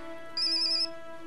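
A mobile phone rings in a Thai television comedy scene, a short bright electronic ringtone burst rising over a steady background hum for about half a second.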